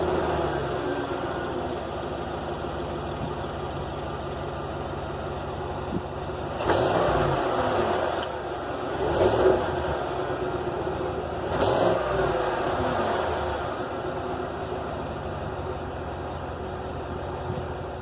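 Cadillac Escalade with a 6.2-liter V8 idling with a steady low exhaust rumble, broken by three short revs that rise and fall around the middle; no talking.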